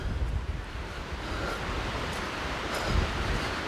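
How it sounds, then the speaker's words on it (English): Wind gusts through pine trees on a Somerset countryside walk, a steady broad rushing roar with low buffeting rumbles against the microphone. "the wind picks up at this point"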